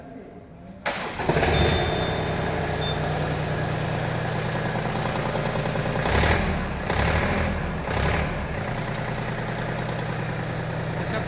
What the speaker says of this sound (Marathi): आता मी तुम्हाला ट्रॅक्टरची फायरिंग ऐकवणार आहे